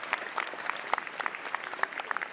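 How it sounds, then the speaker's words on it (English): A live studio audience claps in a short burst of applause during a roast-style show, the claps dense and fairly close with no voices over them. "So a round of applause for you out there."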